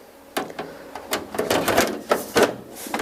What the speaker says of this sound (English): So the last thing left to do is put the side panel back on our case here.